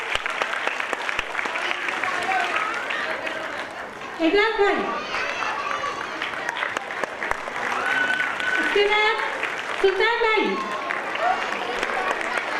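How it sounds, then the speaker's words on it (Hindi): A crowd at a school annual gathering at Surya Urdu School claps loudly and continuously while a man announces names over a microphone, his voice rising above the steady applause at intervals. "तालियां बजाइए जोर से।"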